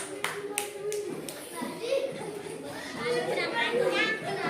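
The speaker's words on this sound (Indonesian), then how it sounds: "Tepuk tangan untuk kelompok 3" Children clap for a group in a classroom-style gathering: a few sharp claps at the start give way to lively chatter and young voices talking over scattered clapping.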